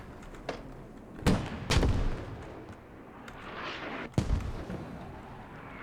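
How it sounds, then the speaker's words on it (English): Several heavy booming blasts ring out over a steady rumble, with scattered sharper cracks of small-arms gunfire between them, fairly loud and close, in the video game Squad during a tournament match. "Multiple explosions coming out, along with small arms trading fire right now"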